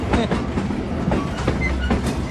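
A freight train with grain wagons rolls past close by, a loud steady rumble with rhythmic clickety-clack wheel beats and faint squeals, heard alone.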